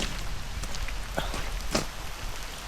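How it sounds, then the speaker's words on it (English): Steady rain falls outdoors at a driveway motocross track build site, a continuous wash of patter with a few sharper drops and knocks scattered through it. "it's raining, how good"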